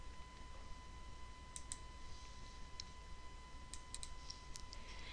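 A handful of faint, crisp computer mouse clicks spaced irregularly, some in quick pairs, over a steady electrical hum with no one speaking.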